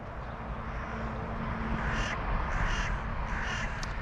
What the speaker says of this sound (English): Our little crows are getting in there.